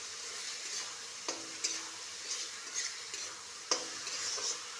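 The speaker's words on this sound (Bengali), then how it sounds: "ভালো করে নাড়াচাড়া করে" Eggplant with coconut paste and mustard powder is stirred in a pan: a soft, even sizzle with a few sharp spatula knocks and light scraping strokes, fairly quiet and close.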